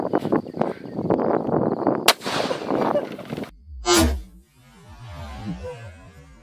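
A .300 Win Mag rifle fired into a mass of Orbeez water beads, one sharp, loud crack with a short echoing tail after earlier commotion and scattered impacts.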